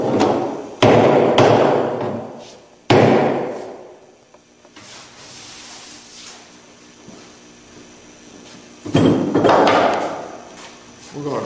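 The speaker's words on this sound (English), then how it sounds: "That did a good job nailing there." Hammer blows driving nails into wooden blocking on a timber triangle assembly, a few loud heavy thuds separated by pauses, close and alone with room echo.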